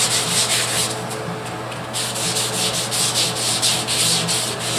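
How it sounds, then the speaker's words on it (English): Wet color sanding of the paint on a Dakota, a steady rhythmic rubbing and scraping with repeated back-and-forth strokes, close and fairly loud, with no talking. "when you're doing this color sanding stuff"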